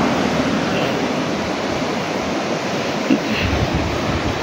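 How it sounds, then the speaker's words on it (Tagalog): Big waves crash against a rocky shore at a spring resort, a steady broadband roar of surf and wind rumbling continuously, close and loud, with one brief thump partway through and no voices. "tingnan nyo guys, biglang lumaki yung alon dito oh"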